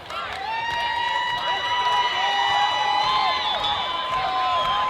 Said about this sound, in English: See the Ontario fans cheering on Reckless.